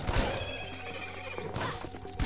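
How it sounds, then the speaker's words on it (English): A flaming ghost horse in the Rogue Legacy video game lets out a loud, close whinny with game sound effects layered around it, filling the whole short moment. "He was all like, "Wah," in like horse speak."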